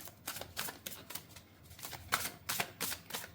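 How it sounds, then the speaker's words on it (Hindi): Tarot cards shuffled and pulled, soft rhythmic riffling swishes and flicks in a series of bursts, close but fairly quiet, with no voice. "चलिए कार्ड्स पुल करते हैं।"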